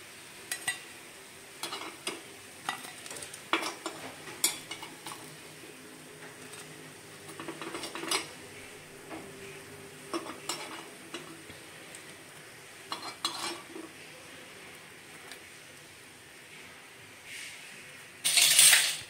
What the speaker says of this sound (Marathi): चला आता आपण प्लेटमध्ये हे काढून घेऊया।